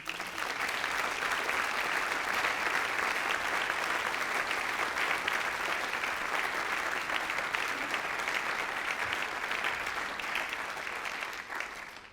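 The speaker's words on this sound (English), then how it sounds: "Please give them a round of applause too." Sustained audience applause for two Ukrainian journalists at a freedom of speech award event, a dense steady wash of clapping hands filling the room for about twelve seconds before tapering slightly at the end, with no talking over it.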